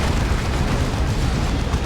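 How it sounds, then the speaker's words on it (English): Rocket run explosions in the Warhammer 40,000 game Dawn of War 2 during a 3v3 battle, a dense continuous roar of booming blasts with no clear gaps, loud and close throughout. "That's a rocket run."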